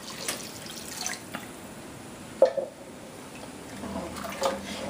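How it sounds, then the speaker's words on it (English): Water is poured into a pot of oxtail stew in a home kitchen, a faint, uneven splashing and trickling with a brief louder splash midway. "I'm going to add the rest of the water."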